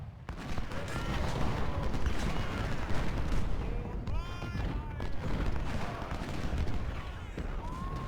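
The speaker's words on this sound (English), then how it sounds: "this 20-pounder will shoot at that gun right there" Artillery fire from a 20-pounder cannon in the Ultimate General: Civil War video game, a dense, continuous roar of battle with repeated booming shots layered over one another.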